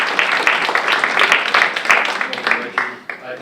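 Dense applause from an audience at a poetry event honoring a poet, a steady close wash of many hands that thins slightly toward the end.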